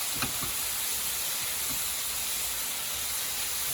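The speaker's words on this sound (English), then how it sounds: "we're going to cook these down until the oil kind of separates from the mushroom and all the moisture gets evaporated" Sliced mushrooms cook down in oil in a pan, giving a steady, even sizzling hiss that holds at a constant level throughout with no voices.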